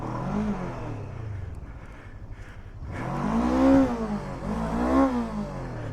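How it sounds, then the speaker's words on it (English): A Kove 500 adventure motorcycle stuck in deep sand revs hard at full throttle, its engine rising and falling in two loud surging pulls over a steady idle, with no voices. "I tried desperately to lean the bike a little bit and try to put full gas, but it's just moving some sand."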